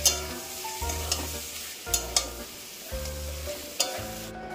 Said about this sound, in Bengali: আগে থেকে সিদ্ধ করা আলু এবার দিয়ে দেবো।